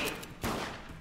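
Gunfire in the multiplayer game Deceit, a loud burst of shots near the middle of a second-long moment, set against dense game noise.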